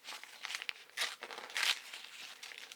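Dry, crinkly snipping and crunching as a dried section is cut from a mango plant, a soft and close rustle with a few sharper clicks.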